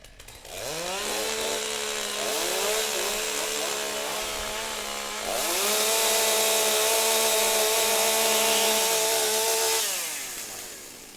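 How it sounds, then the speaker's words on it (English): A STIHL MS661 chainsaw being warmed up at a timbersports competition, revved in two long sustained bursts with rising and falling pitch, loud and close, ending as the engine drops back. "Warm up your saw."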